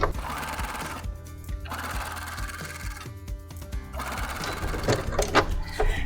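A sewing machine stitches the hem of a circle skirt, running in quick bursts with short pauses between them and ending in a livelier rattling spell.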